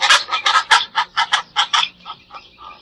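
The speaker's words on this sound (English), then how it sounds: "Pelican." A pelican gives a rapid series of about a dozen harsh, clucking grunts that fade toward the end, close and alone.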